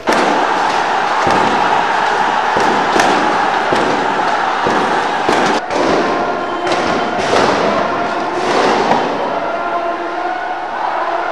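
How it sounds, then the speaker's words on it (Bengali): Repeated gunshots during street clashes between police and protesters in Mirpur, with tear gas and sound grenades also fired; loud sharp cracks and thuds in rapid irregular succession over a constant roar of noise. "মুহুর্মুহ গুলির শব্দে কেঁপে ওঠে পুরো মিরপুর এলাকা"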